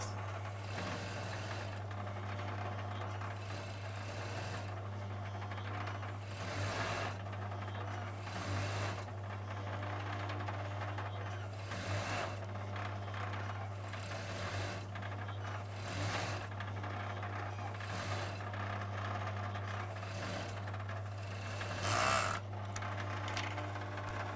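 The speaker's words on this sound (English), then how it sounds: "we're going to overlock the other side" An overlocker serging the raw, fraying edge of a trouser outside-leg seam runs in a steady, loud mechanical hum with a low motor drone, pausing briefly every few seconds between bursts of stitching.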